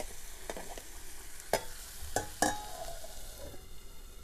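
Wild leafy vegetable frying in a pan gives a faint, steady sizzle, broken by a few sharp clicks and scrapes of stirring against the metal.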